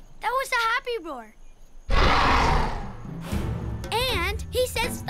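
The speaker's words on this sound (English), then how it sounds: "That was a happy roar." A cartoon T-Rex lets out a loud, raspy roar lasting about a second and a half, set between bursts of animated character dialogue.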